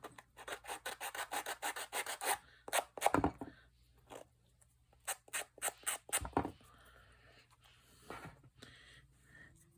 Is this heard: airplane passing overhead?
no